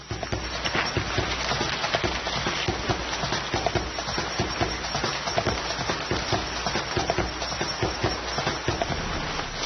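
Rain falling in the Sumatran jungle at dusk, a dense, steady patter and drumming on leaves and shelter, close and continuous throughout.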